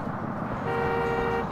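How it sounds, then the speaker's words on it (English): A car horn in the video game Yakuza 3 gives one sustained toot of under a second, loud and close over a low background rumble of street ambience. "Honk"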